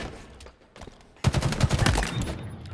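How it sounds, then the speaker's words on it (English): Gunfire from a Halo competitive match sounds in rapid bursts of shots with explosions, quiet at first and then loud and dense from about midway on, with no talk over it. "Shots starting to ring out."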